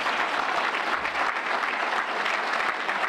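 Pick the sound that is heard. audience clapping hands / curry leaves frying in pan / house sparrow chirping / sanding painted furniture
audience clapping hands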